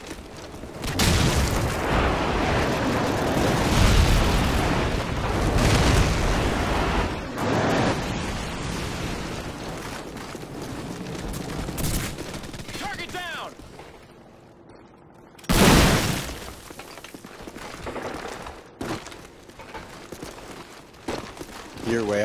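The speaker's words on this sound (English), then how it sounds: "Friendly airstrike on the way!" Airstrike explosions in Call of Duty: Modern Warfare during a Team Deathmatch match, with heavy rumbling booms that swell and roll on for several seconds, then a sudden loud blast later, and voices talking through the chaos.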